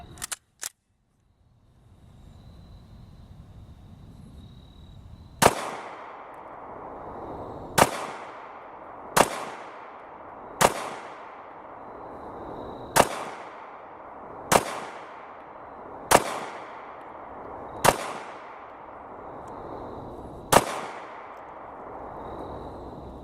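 Ten sharp, loud pistol shots from a Sig Sauer P320 Compact chambered in .40 S&W, fired at an outdoor range and spaced roughly one to three seconds apart, each with a brief ringing decay, over a low steady background.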